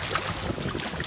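Breezy wind gusting over an open lake in the Boundary Waters, a steady broadband rush close to the microphone with no voices, the kind of wind buffeting a canoe on the water.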